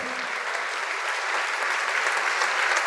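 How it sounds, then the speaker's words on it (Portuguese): Steady, dense applause from a congregation during an evangelical church service, filling the whole moment with continuous clapping at an even level and no voices standing out. "Vamos aplaudir mais ao Senhor."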